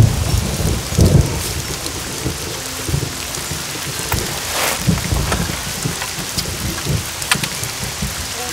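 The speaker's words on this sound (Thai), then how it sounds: "นี่ฝนตกหนักมากเลยนะเนี่ย" Heavy rain pours down hard and continuously, a dense loud roar with rumbling thunder beneath it.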